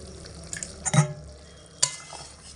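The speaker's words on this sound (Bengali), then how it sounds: "হালকা একটু নাড়াচাড়া করে দেব গরম মশলা গুঁড়ো দিয়ে" Cooking food stirred in a pan after garam masala is added, soft background sizzle with a few distinct scraping and clinking strokes of a spoon, close by.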